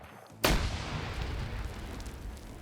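A grenade explodes in a video game: one sudden, sharp blast after a brief near-silence, followed by a long, rumbling decay that fades slowly.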